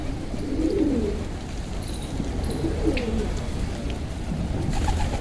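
Soft, low pigeon coos repeat in short rolling phrases over a steady outdoor hum, with a few faint chirps higher up.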